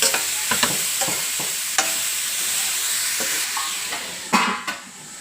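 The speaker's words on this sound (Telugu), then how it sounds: "తురుముకున్న క్యాబేజీ తురుము" Grated cabbage fries in a pan with garlic, curry leaves and turmeric, a close steady sizzle broken by repeated scraping stirs and a couple of sharp clanks of the spoon against the pan.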